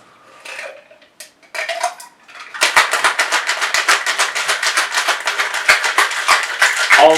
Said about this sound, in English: Then you add ice.